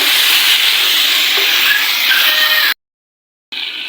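Kalonji and masala stir-fried in a hot pan produce a loud, continuous close-up sizzle and hiss, cut briefly by a short silence before the frying resumes.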